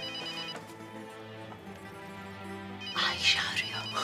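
A telephone rings in a domestic drama scene, its bright trilling bell rising suddenly near the end over soft background music, with a voice speaking faintly around it.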